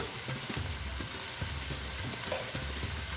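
Ground spices, including Kashmiri red chilli powder and turmeric, sizzle and fry in a pan for a vegetarian soybean curry, with steady crackling and scraping stir strokes throughout, close and continuous, with no talking.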